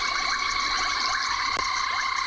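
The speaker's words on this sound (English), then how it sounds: "we have got a whole lot of different species of frog calling" A dense chorus of many frog species calls at once at sunset on an African safari reserve, with layered, continuous croaks and trills filling the air, loud and without pause.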